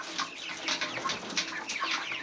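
Backyard chickens pecking at scattered cracked corn, heard as busy close-up clucks and soft chatter from several birds over about two seconds, with no talking.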